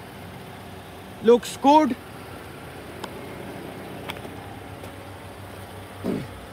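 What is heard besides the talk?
Toyota Camry Atara SX engine running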